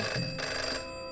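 A telephone rings briefly in the visual novel Codename Typhoon, a short, steady electronic ring tone that holds for about a second and then fades, with no voices.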